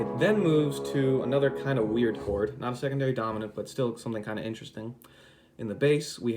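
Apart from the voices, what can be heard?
No everyday noise stands out behind the speech.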